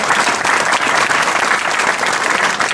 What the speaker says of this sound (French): et moi je vous demande de l'applaudir.